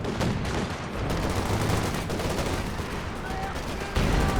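Sustained gunfire from the video game Company of Heroes 2, a dense, steady rattle of machine gun bursts that continues throughout, with a heavier surge near the end.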